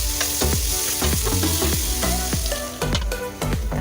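Anchovies cooking in coconut milk with jackfruit for ginataang langka, a close, steady sizzle and bubble with repeated knocking and scraping strokes of a spoon against the pan.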